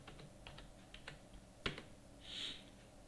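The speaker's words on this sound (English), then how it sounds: "type pin code" Quiet, scattered keystrokes on a computer keyboard while entering a PIN code, with one sharper click in the middle and a brief hiss near the end.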